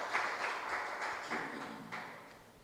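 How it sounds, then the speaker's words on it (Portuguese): A congregation at a church worship service applauds, a soft, steady wash of many hands clapping that sounds distant and fairly faint, with a few brief louder swells. "Pode aplaudir o Senhor que Ele merece"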